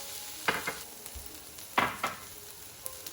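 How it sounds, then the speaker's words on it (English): Green chili fries in a pan for a potato and cauliflower dish, with a faint sizzle under a few distinct scraping stirs spaced apart, close and fairly quiet. "I let this fry for about 2 minutes."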